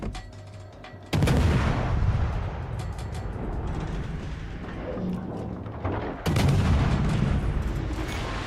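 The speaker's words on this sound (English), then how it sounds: "Not while I'm just trying to deal with every salvo." Naval artillery in World of Warships: Legends booms in two heavy salvos, loud and close, each with a long rumbling roar that fades between blasts.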